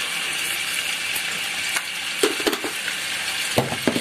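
Pork browning in a pan, giving a steady bright sizzling hiss with occasional clinks and scrapes as the meat is moved about.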